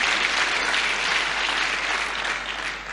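Steady, dense applause from an audience at a Women in Construction Forum, a continuous loud wash of clapping that holds evenly throughout without speech.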